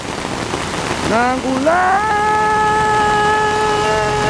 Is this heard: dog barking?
no